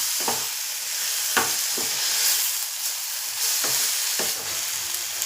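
Urad dal, chana dal and peanuts fry in hot oil with a constant bright sizzle, while a spoon knocks against the pan every second or so as they are stirred.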